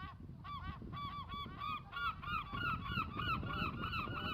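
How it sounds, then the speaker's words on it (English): A gull gives a rapid series of laugh-like cries, a steady repeating run of sharp calls at moderate distance with no talk over it. "Hear that seagull laughing?"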